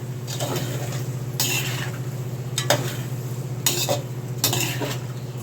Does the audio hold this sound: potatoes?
yes